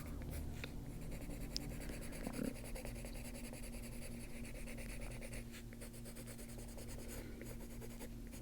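A Holbein colored pencil scratches across a coloring book page, soft continuous close strokes with a faint tap or two, quiet and without talk.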